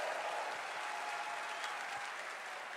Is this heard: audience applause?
yes